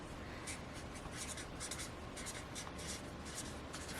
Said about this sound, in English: and with the green we will write